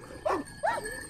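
An 11-12-month-old dog gives two quick, moderately close barks in succession, with faint background noise and no talking.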